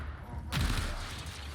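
A sudden burst of turret gunfire in the video game Warframe, heard as a loud, dense rattle that starts abruptly after a quiet moment and keeps going under a low game rumble.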